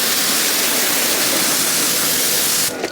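Water spraying from a hose to rinse a panel of a car, a loud, steady hissing rush that fills the clip and cuts off abruptly near the end.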